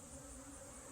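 Dense, steady buzzing of honey bees swarming around an active hive during an inspection, a continuous close drone without talk.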